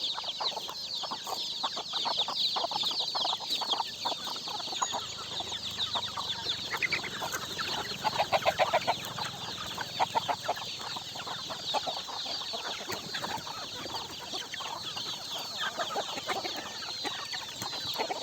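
Free-range native village chickens on a low-cost poultry farm clucking continuously in a dense overlapping chorus, with occasional louder calls standing out nearby.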